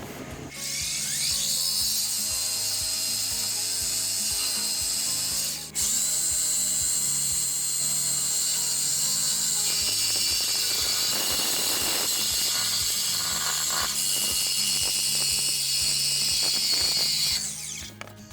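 Exhaust pipe on a 2004 Acura TL being cut with a power saw, a loud, continuous high-pitched grinding whine with rapid mechanical chatter, close and sustained for most of the stretch with one brief break.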